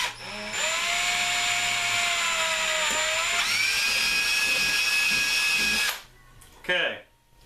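A power drill runs through a 1/8 inch bit, boring a hole completely through a part for a primer alarm; the high whine holds steady for several seconds, shifts pitch once, then stops, with brief rustling after.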